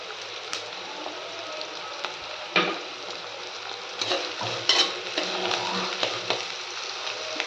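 Tomatoes frying with salt in a pan give a steady, close sizzle, broken by several louder scraping bumps as the mix is stirred. No one speaks.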